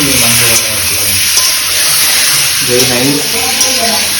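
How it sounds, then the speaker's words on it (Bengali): Chicken meat frying in a pan for chicken kosha, a loud continuous hiss of sizzling that runs under people talking. "মাংসটাকে ভেজে নিতে হবে"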